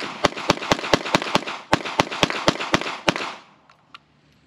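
Springfield Armory Echelon pistol emptying its last magazine: about a dozen sharp, loud gunshots fired at a brisk, steady pace, then a short quiet tail with a few faint clicks.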